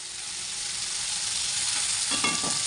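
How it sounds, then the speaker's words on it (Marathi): Tomatoes sautéing in a pan until soft give a steady, close, dense sizzle throughout, with a brief scraping stir near the end. "याला चांगलं मस्त परतून घ्यायचं आपल्याला टमाटर नरम होईपर्यंत"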